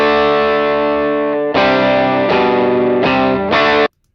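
Overdriven electric guitar through a Wampler Moxie pedal in its classic Tube Screamer mode: one long sustained chord followed by three quick strummed chords, loud and close, then cut off.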